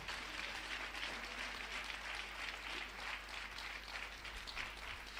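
Steady, sustained applause from a church congregation during an evening service, a dense, even wash of many hands clapping together at moderate distance, fairly faint, with no voice rising above it.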